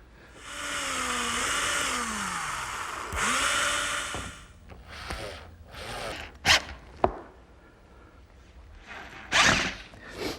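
A power screwdriver drives screws into the hinge that holds an easel's front leg, giving two whirring bursts with rising and falling pitch, followed by scattered clicks, knocks and handling noises.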